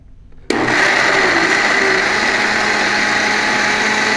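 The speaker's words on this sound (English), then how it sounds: "we're gonna blend this just until smooth" A blender whirs on abruptly after a brief quiet moment, then runs steady and loud while blending soup with chicken stock until smooth.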